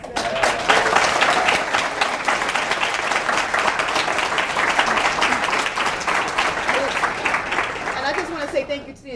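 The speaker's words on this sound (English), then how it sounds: "I'd like to give a round of applause to all of our awardees today" An audience at a Women's History Month lecture and awards ceremony applauds its awardees, steady sustained clapping filling the room for about nine seconds before tapering off at the end.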